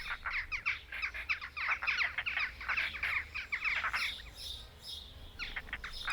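Busy, overlapping calls of jackdaws and rollers, harsh chattering and chirps in rapid bursts, fairly close, with a short lull before more calls resume near the end.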